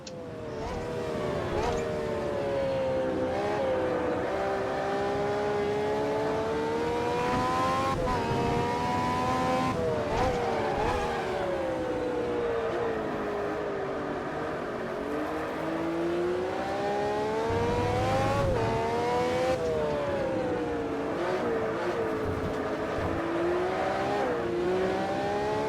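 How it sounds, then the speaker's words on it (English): Vintage Formula One race cars lapping the Brands Hatch circuit, engines howling continuously with rising and falling pitch as they accelerate and shift through gears, loud and sustained throughout. "Blue flag. Fast car approaching."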